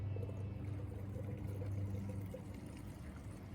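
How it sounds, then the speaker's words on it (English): Gasoline poured through a funnel into the fuel tank of an MTD lawn vac with a Briggs Quantum engine, a steady low liquid gurgle and trickle running continuously, close and fairly quiet, with no talk. "Let's see if we can get some real gas in here and get rid of the water."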